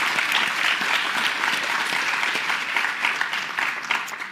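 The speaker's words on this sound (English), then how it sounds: "Please give our panel a big round of applause." Sustained applause for a conference panel, a dense, even wash of clapping from a sizable crowd that continues throughout before fading slightly at the end.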